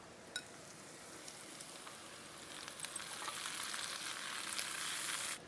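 Fresh spinach wilting in a pan over softened shallots cooked in a touch of butter, giving a steady, fairly quiet sizzle and crackle with a few pops. The sound swells slightly as it goes on, with no talking.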